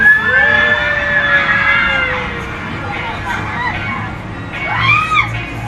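Crowd at the BINIVERSE concert cheering and screaming for Gwen's solo performance, a loud, continuous roar with high shrieks rising and falling across the whole stretch, one swelling near the end.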